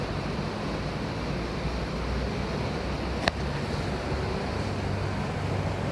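Steady broadband wash of waves on a seashore fills the whole stretch, with low rumbling surf and wind, plus a single brief sharp tick in the middle; no voices.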